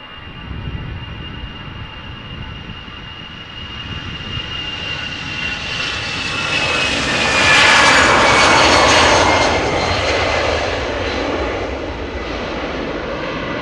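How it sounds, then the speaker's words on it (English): An Aer Lingus Airbus jet passes alongside the Polderbaan runway at Amsterdam Schiphol, a broad engine roar that swells to its loudest midway and then slowly fades, with a whining tone sliding downward as it goes by. "There's also another Airbus from Aer Lingus coming this way."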